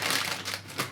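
A plastic zip bag holding a chicken pack is pulled open at close range, giving a brief crinkling, rustling burst of plastic with no talk.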